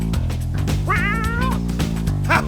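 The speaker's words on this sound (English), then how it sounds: "Don't pull that kitty's tail." A cartoon cat in The Legend of Kyrandia: Malcolm's Revenge meows loudly and up close, with one drawn-out, wavering meow in the middle and a shorter cry at the end, heard over steady game music.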